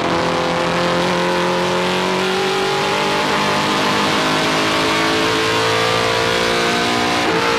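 Onboard a NASCAR Canadian Tire Series Ford Fusion race car at Edmonton, its engine drones loud and steady with shifting harmonic pitch and a brief rev change near the end, no talk.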